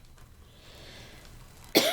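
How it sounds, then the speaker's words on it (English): A single sharp, loud cough bursts out near the end after a stretch of quiet room hiss, close to the microphone, from someone working on a storm door wreath kit indoors. "I'm so sorry about my coughing."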